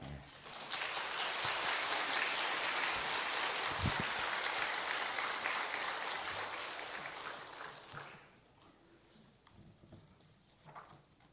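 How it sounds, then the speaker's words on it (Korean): Church congregation applauding in welcome during a mobilization Sunday service, a dense sustained wash of clapping that fills the hall for about eight seconds before thinning out, with faint murmuring voices after it fades. "나오실 때 여러분 크게 박수로 환영하시길 바랍니다"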